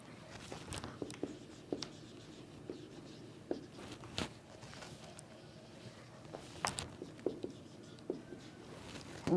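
Pen or pencil scratching on paper while a polynomial is written out, a steady run of scraping strokes with short taps and pauses, close and fairly quiet, with no talking.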